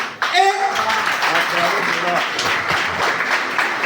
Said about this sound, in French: Acclamons cette information, cher pionnier.